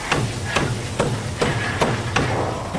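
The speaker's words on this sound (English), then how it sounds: "Let's try the lump hammer." Seven evenly spaced heavy lump hammer blows ring out against metal, each a sharp clang with a brief metallic ring, steady and close.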